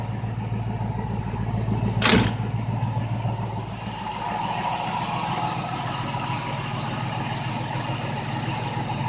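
A V8 engine in an MG Magnette coupe idles at around 800 rpm with a steady, lumpy low rumble, heard close after a short sharp noise near the start, no voices.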